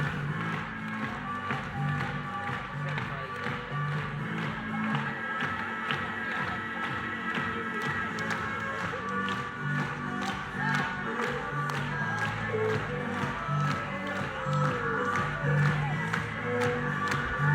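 Conference audience applauding its speakers and organisers at a 2019 event, a dense, steady wash of clapping with crowd noise and scattered cheers filling the room throughout.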